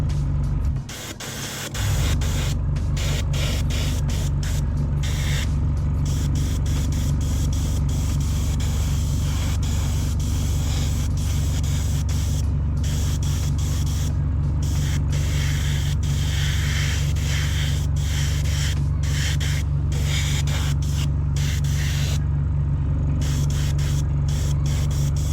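Airbrush or spray gun hissing steadily and loudly for a long stretch while a thin base coat goes onto a 1/20 scale Ma.K Superball model kit, a constant close airflow with a low hum underneath.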